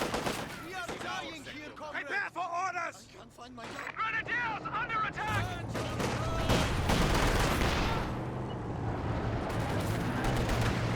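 Anti-tank gun fire in Company of Heroes 2, aimed at sandbag defenses, comes as a dense run of gunfire and explosive thuds that grows heavier over the second half, with a voice talking over the first part.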